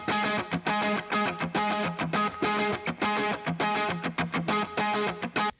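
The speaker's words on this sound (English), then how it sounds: "on the outro of the song, added this extra funky guitar layer that sounds like this" A funky electric guitar layer plays over a song outro: choppy, rhythmic strummed chords with effects, sharp stops and gaps between bursts, played alone and upfront.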